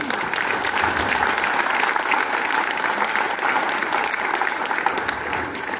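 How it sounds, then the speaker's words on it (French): An audience applauds steadily and loudly through the closing speech of a song festival, a dense, even wash of hand claps filling the whole stretch without letting up. "je pense qu'on peut s'applaudir"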